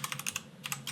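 Computer keyboard typing during a Photoshop session, with two quick bursts of keystrokes separated by a short pause, close and fairly quiet with no voices.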